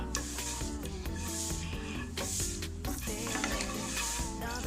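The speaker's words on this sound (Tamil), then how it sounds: "நல்லா அதை கூட மிக்ஸ் பண்ணி வச்சுக்கோங்க." A spoon stirs kaalan masala mixture in a pan, scraping and sizzling softly beneath continuous background music.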